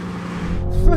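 Toyota Supras, a 3.0 litre, a 2.0 litre and a Gen4, launching side by side in a drag race, a loud close engine roar rising in pitch over one brief second.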